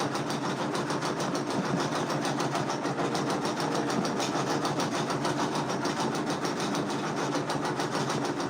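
An embroidery machine stitches a design on black cotton fabric, running as a continuous fast, even mechanical chatter with a rapid needle rhythm, steady and close throughout with no talk.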